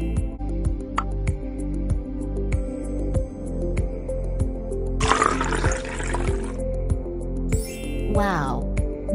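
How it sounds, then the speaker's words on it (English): Balloon air released into a water-filled bottle forces water out through a straw, a brief gushing splash rising over steady rhythmic background music, followed by a short squeaky sputter. "By releasing the air from the balloon into the bottle, water is forced out through the straw, creating a water pump."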